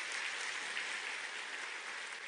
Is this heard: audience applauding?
yes